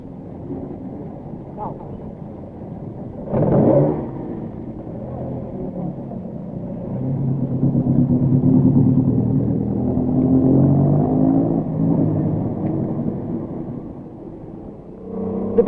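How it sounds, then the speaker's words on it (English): A Citroën rally car on the 1971 Rally de Portugal rumbles past on a fast road, its engine note building to a sustained drone midway and then fading, with a sharp thump early on and wind buffeting the microphone. "Car 106 is one of the formidable Citroëns."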